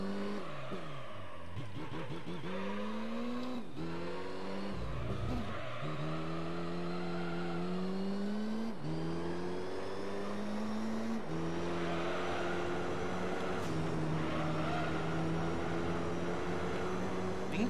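Chevrolet Camaro race car with over 900 hp in Gran Turismo 3, engine droning loud and steady with repeated upshifts and rising revs, brief dips between gears throughout a lap.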